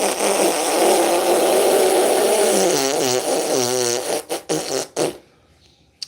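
A long wet, sputtering fart, loud and rattly, runs for several seconds and breaks into a few short bursts before stopping.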